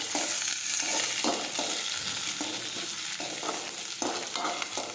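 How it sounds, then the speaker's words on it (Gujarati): Chopped okra sautéing with mustard seeds and cumin in hot oil, a steady close sizzle and crackle broken by periodic stirring scrapes of a spoon through the pan, with no talking. "સમારેલો ભીંડો નાખી દઈશું। હવે આપણે સાતળી લઈશું।"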